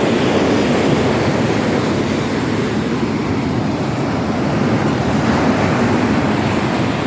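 Rough sea after a typhoon in Palawan crashes onto the shore in a loud, continuous wash of surf, mixed with wind rumble on the microphone and no voices.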